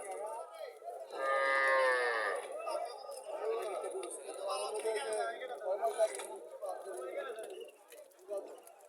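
Local cows moo at a cattle market, with one long, loud, close low call in the first seconds and more lowing amid the busy chatter of the crowd.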